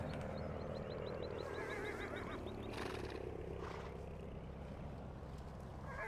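Horses neigh and whinny repeatedly while being loaded into a livestock trailer in Farming Simulator 15, a fast rising series of calls over a steady engine drone, with a few clopping sounds.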